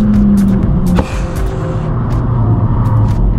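A Renault Mégane 4 RS engine rumbles loudly at close range with a brief sharp rev spike, then settles into a steady throbbing idle.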